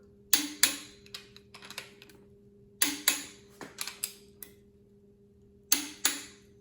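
Ratchet clicks snugging up stud nuts on a Ford FE 465ci tunnel port engine, sharp close clusters of rapid ticks in short separated bursts, with a faint steady hum underneath.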